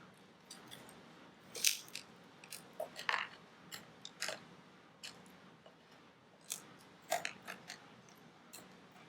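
Scissors or shears cutting through a plastic plant pot during repotting, giving a series of irregular crisp snips and crunches at close range, with no talk.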